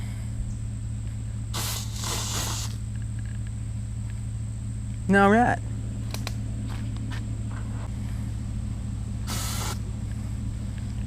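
A short hissing burst of bug spray aimed at an insect outdoors, heard briefly among a few other sprays and a steady background hum, with someone speaking a word.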